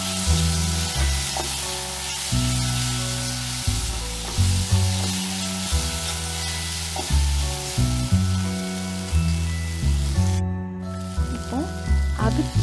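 Ginger garlic paste and curry leaves fry in hot oil, giving a loud bright sizzle and crackle with periodic stirring thumps, over low droning background tones.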